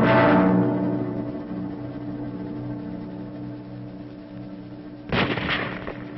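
Gunfire rings out in jungle combat in 1944 wartime footage: one heavy boom at the start decays into a long ringing tail, then a second sharp report follows near the end, loud against a thin, filtered background.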